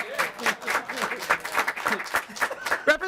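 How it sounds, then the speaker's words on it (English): Committee members clap in a state House taxes committee hearing room, scattered uneven claps mixed with chatter and laughter from people nearby. "Representative Baker, we're clapping for you because you were late"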